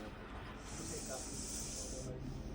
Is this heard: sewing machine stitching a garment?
no